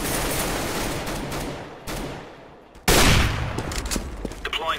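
Rapid bursts of gunfire in the CS:GO video game on the de_mirage map, loud and close, with a sharp louder volley near the end.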